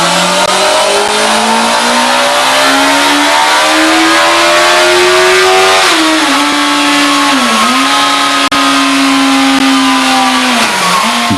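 A Yamaha R1 sport motorcycle engine revs hard and close, its steady high whine climbing in pitch, with brief dips that sound like gear shifts before it pulls up again.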